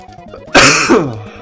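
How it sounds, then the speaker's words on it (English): A man's single sharp cough or throat-clear bursts out loudly and close, dying away within about half a second, with no talk over it. "Sorry about the cough."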